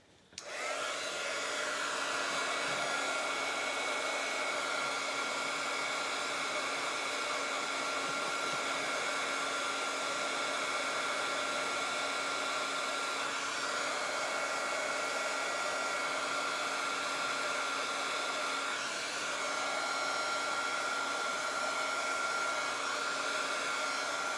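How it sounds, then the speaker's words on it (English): A handheld blow dryer blasts steadily and close up for the whole stretch, a constant airy whoosh with no talking over it, aimed at a mismatched, funky-shaped arrangement of petals. "We're going to take our blow dryer."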